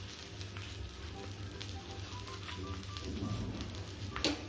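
Pizza paratha, a flatbread pressed thin and spread with butter, sizzles steadily in a hot pan after being flipped, a soft continuous crackle with a few sharper pops near the end.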